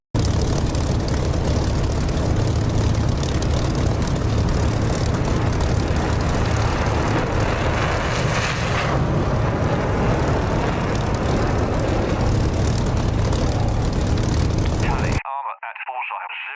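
A loud engine roar from aircraft in the DCS flight simulator game fills most of the passage, with a swell as they pass overhead before the sound cuts off abruptly.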